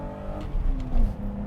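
A BMW 325i E30 engine revving under full throttle, a rising drone that swells and surges in loud pulses as the car accelerates, with no talk over it.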